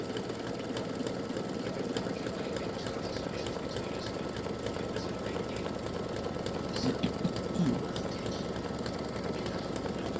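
An in-the-hoop embroidery machine sews a triple stitch on a fabric mug rug, giving a continuous fast mechanical whir at a low, even level with no talk.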